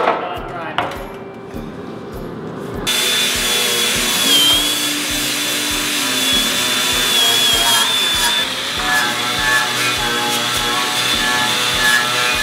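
Power tool cutting through the rear bumper of a Fox-body Mustang in a garage, a loud steady whining grind with regular rapid pulsing, continuous through the clip after a brief quieter start.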